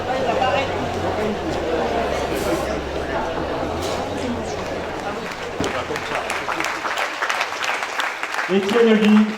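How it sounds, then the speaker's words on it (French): An audience at an outdoor ceremony in Palavas applauds, a steady wash of clapping from a crowd with voices and chatter mixed in, fading toward the end. "Ça s'applaudit."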